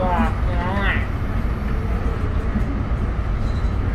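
Aboard a Siemens SD160 light rail car, number 2254 on the Blue Line, a continuous loud interior rumble and rolling roar fill the ride. A voice speaks briefly at the start.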